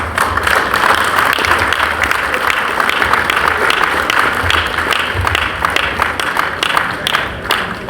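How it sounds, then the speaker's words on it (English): An indoor crowd gives a long round of loud, steady applause for a Ghanaian musician at an event, dense clapping held at an even level the whole time. "With a round of applause"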